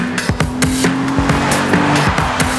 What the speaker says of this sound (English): It's got a throatiness to the exhaust note when we get into the upper rev range.